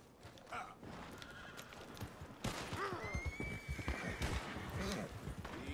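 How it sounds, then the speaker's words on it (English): A horse in Red Dead Redemption 2 whinnies loudly, with steady clip-clop of hooves underneath, close and clear. "Horse?"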